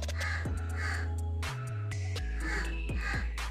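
Several crows cawing repeatedly, harsh calls overlapping at close to middle distance over a low steady hum, with no voices.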